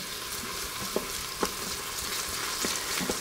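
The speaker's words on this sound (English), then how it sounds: "So let's throw in this miso with the onion." Miso paste and onion frying in a pan for a vegan corn risotto, a steady close sizzle with a few soft stirring scrapes and clicks, no talking.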